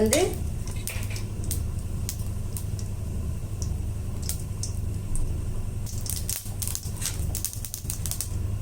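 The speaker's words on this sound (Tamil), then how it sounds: "கடுகு உளுத்தம் பருப்பு போட்டுக்கலாம். கடுகு நல்லா பொரியட்டும்." Mustard seeds and urad dal spluttering in hot oil in a pan, making a steady dense sizzle with scattered sharp pops and crackles, closer bursts clustering toward the end, no talk.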